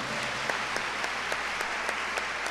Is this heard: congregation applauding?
yes